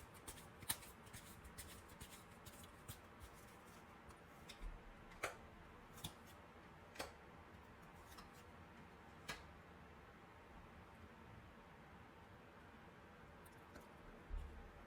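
Tarot cards are shuffled and drawn close up, quiet riffling and soft flicking with light taps spread across the stretch, and no talking.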